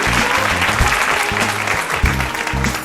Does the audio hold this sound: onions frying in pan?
no